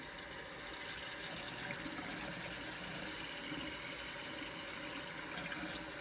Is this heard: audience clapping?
no